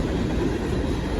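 A freight train hauling cars of sand, oil, wine and olives rolls past on railroad tracks, a loud, steady rumble with rail clatter filling the short stretch, no voices.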